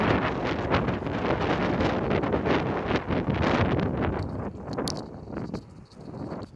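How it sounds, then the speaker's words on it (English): Strong wind blowing at a roadside camp spot while cycle touring on Australia's Savannah Way, a loud continuous roar of gusts buffeting the microphone that eases slightly near the end. "It's a bit windy,"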